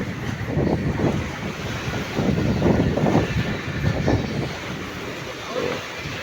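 Strong wind buffets the microphone at sea, with waves surging and washing in irregular bursts around a boat, loud and close, with no one talking.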